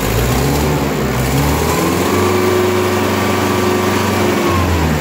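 A Mitsubishi 3220 engine is revved hard as the throttle is pressed, a loud, close, continuous roar with a dip and a rise in pitch, and no voices over it.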